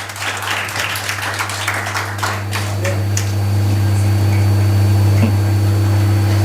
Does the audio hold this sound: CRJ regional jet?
no